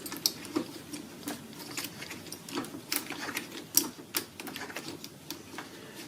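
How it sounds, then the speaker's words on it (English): A 4mm Allen key loosens a bolt on a BMW F30 with an irregular run of small close ticks and clicks, a few sharper metallic taps standing out against a quiet background. "take a 4mm Allen key. Just go ahead and untwist this bolt here."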